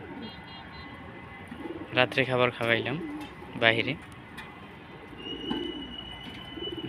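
Pet pigeons coo at night, a few soft throaty coos near the microphone over a low background hum, while someone speaks briefly in the middle.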